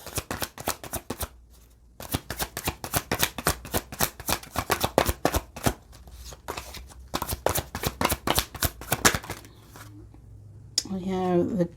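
A tarot deck is shuffled close up in quick, crisp riffles and flicks, followed by a short pause and a few cards being drawn and laid down.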